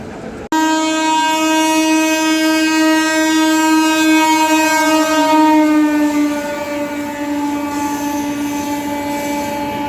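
Mumbai Rajdhani express passing through Hazrat Nizamuddin railway station at restricted speed, a loud sustained multi-tone train horn sounding close by for nearly the whole stretch, with rolling rail noise beneath.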